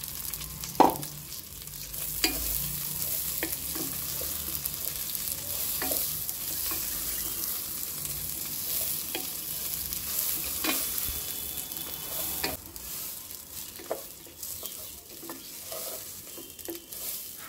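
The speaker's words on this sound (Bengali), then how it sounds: "হালকা ভেজে নিয়েছি, এবার এর মধ্যে চালটা দিয়ে দেব।" Rice stirred and fried in a pan with oil, a steady sizzle running throughout with scraping stirs of the spoon at intervals, close and fairly loud, no talking.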